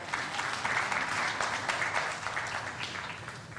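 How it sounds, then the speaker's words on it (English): An audience applauds steadily at an opening ceremony, with dense, even clapping that is moderately distant and keeps going with no break. "I think I deserve a round of applause."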